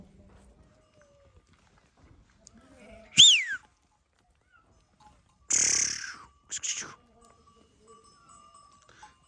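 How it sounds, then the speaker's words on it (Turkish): A couple of short, high bleats ring out amid quiet outdoor ambience, with faint rustling and distant sounds between them. "Merhaba koyun. Koyun nasılsın koyun?"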